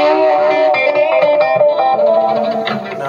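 An electric guitar plays clean tones through a Line 6 Spyder II 15-watt amp with effects, sustained chords and ringing notes with a chorus-like shimmer and some reverb, close and fairly loud, no talking.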